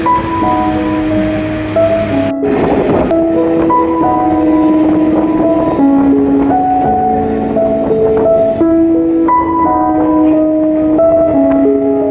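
A train rolls slowly along a new line near St. Thomas Mount, Chennai, with a loud, continuous rumble. Sustained tonal whines and squeals rise and fall over the running noise throughout.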